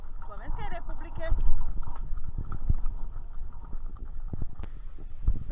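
Horse hooves clip-clop along on a horse trail ride in Slovakia, a steady rhythm of close footfalls under ongoing outdoor noise, with faint sounds in the background.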